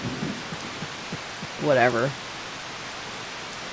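Storm rain in Harvest Moon: Save the Homeland makes a constant wash of hiss, and a man's brief spoken remark rises over it partway through.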